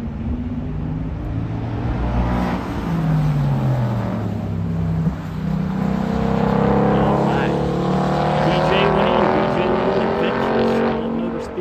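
Race car circling Charlotte Motor Speedway, a loud sustained engine roar with rising and falling pitch sweeps as it accelerates, heard steadily at a distance for several seconds with faint talk beneath.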